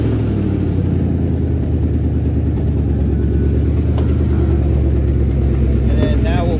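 A 2003 Ford Expedition engine idles steadily during an intake and fuel system service, a close, continuous low rumble with an even, unchanging note.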